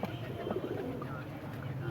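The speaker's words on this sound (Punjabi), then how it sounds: "ਇਹ ਤੁਸੀਂ ਦੁਬਾਰਾ ਨਜ਼ਾਰਾ ਕਰ ਰਹੇ ਹੋ ਨਾ ਕਬੂਤਰਾਂ ਦਾ" Pigeons coo softly in low, repeated calls among a flock of kept racing pigeons, heard under someone talking nearby.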